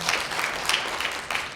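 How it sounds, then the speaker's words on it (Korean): Audience applause at an academic conference marking the 70th anniversary of Yongin Cultural Center, with dense, fairly close clapping sustained through the whole moment. "큰 박수 부탁드립니다."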